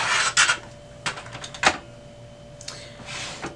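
Plastic paper tray of an HP Color LaserJet Pro MFP M283fdw printer being pulled open, a few close, sharp clicks and scraping rattles with quiet gaps between them.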